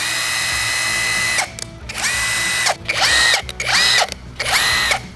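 A cheap cordless impact wrench runs on its low setting with a thin whirring drone, then rattles through several short bursts of harsh hammering and ratcheting, close and loud with no talk.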